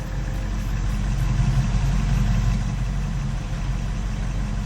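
A vehicle engine idling in Farming Simulator 22, a constant low rumbling drone that runs steadily throughout without revving.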